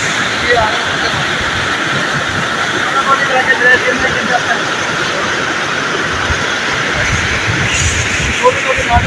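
Small streams join and pour down as a waterfall at Jutyal Nala in Gilgit, a steady, loud rushing roar of falling water that continues throughout.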